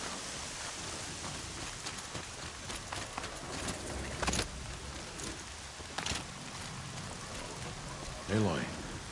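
Steady rain from the video game Horizon Zero Dawn hisses across the whole stretch as a constant wash, broken by a few louder thumps and a brief voiced sound near the end.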